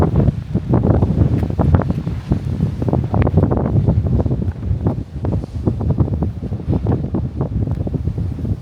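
Strong gusts buffet the microphone in a steady roar with rapid rustling flutters at the seaside Cirkewwa ferry and bus terminal, loud and continuous throughout.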